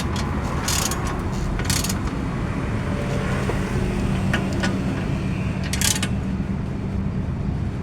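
Bolt being hand-tightened on the underbody tray of an Isuzu Dragoon Gold TFR pickup, with faint mechanical ratcheting clicks and creaks over a steady low rumble, no speech.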